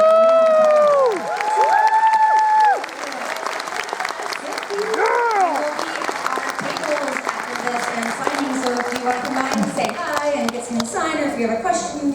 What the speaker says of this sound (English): please join me in giving a massive round of applause and a huge thank you